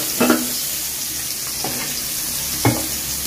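Onions frying in hot oil, a steady broadband sizzle throughout, with three brief stirring scrapes spaced about a second apart, close and fairly loud, no voices.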